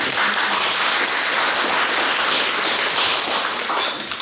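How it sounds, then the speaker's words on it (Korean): Audience applause at an apartment remodeling project briefing for a Seoul residential complex: dense, steady clapping from a seated crowd, loud and continuous for the full length, with no voices over it. "큰 박수 한번 부탁드립니다"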